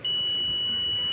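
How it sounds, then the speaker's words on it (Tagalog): A continuity tester emits a single steady, high-pitched beep lasting just over a second while checking a Honda Wave 125 starter relay, clear and close with no talking. "Dapat tumunog yung ating tester."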